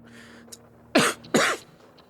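Two loud, close coughs come in quick succession after a moment of near quiet, each a short harsh burst, with faint breathing around them.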